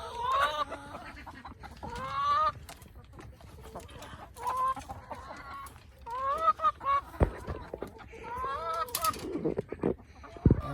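Chickens cluck repeatedly in a backyard flock of about 25 hens and roosters kept with ducks, the calls coming in short bursts at close range with a few sharper squawks.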